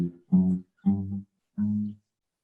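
Three separate guitar notes plucked one after another with short gaps, each ringing briefly and then cut off.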